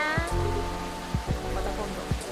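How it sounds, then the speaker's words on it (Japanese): Steady rain from a storm in the game Coffee Talk, a soft continuous wash with a few low thumps, playing under faint background music. "嵐がひどくなる前に出た方が良さそうだ。"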